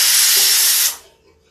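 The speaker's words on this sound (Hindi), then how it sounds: "इधर देखिए इधर कुकर बुला रहा है, इसकी दाल पक गई है" A pressure cooker cooking dal lets off a loud, close burst of hissing steam that holds steady for almost a second, then cuts off sharply into near quiet.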